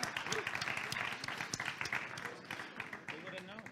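A conference audience applauds a speaker being introduced at an Ethereum developer event, a short burst of dense clapping from a crowd, close and lively, with voices mixed in beneath the claps.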